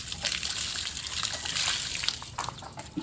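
Water poured over a motorcycle brake pump during a brake pump replacement on a Honda XRM 110/125, giving continuous splashing and trickling close by, with small sloshes and drips toward the end.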